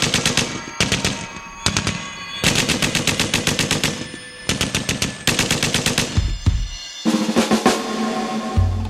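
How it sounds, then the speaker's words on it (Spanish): Gunfire from an attack on a general's vehicle: loud, close bursts of rapid automatic shots rattle in repeated volleys separated by brief pauses, with a low rumble near the end and no voices. "el general Inver Barreras es atacado a tiros cuando transitaba en su vehículo"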